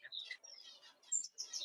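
A society finch chirps in a home aviary, giving short bright tweets and trills in quick bursts, close and clear, with slight pauses between phrases.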